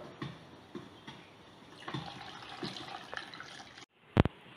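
Water poured into a condensed milk and egg mixture for caramel flan gives soft liquid splashes and drips in several short bursts, close up, ending with a brief louder knock.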